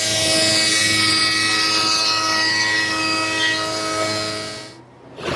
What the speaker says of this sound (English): This machine is a drum sander.